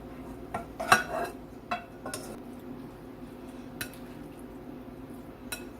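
Spoon or utensil clinking and scraping against a dish while pre-cooked penne pasta is stirred and mixed, with a few sharp clinks early on and softer scrapes after, close and fairly quiet, no talking.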